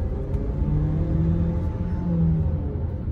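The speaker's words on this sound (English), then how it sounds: "Engine's a little buzzy for my liking" 2020 Ford Escape Titanium engine accelerating, a droning buzzy hum with rising engine tones heard from inside the cabin, steady and close.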